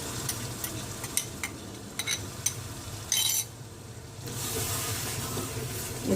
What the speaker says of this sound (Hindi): अब इसमें जो कलेजी मैरिनेट की है वो शामिल करते हैं।